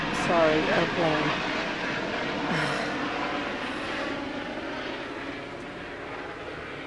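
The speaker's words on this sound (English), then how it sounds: "Oh, helicopter, not airplane," A helicopter flies overhead, its broad engine and rotor roar steady and fairly loud throughout, with someone talking briefly over it early on.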